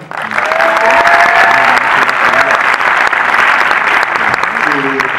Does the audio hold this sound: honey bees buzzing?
no